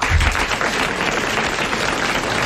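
A French TV studio audience in 1988 breaks into steady, dense applause, a loud continuous wash of many hands clapping with no pauses.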